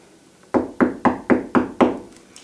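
Six knocks on a door in a children's yoga retelling of Goldilocks and the Three Bears, close and evenly spaced, then a faint tap, with no talking.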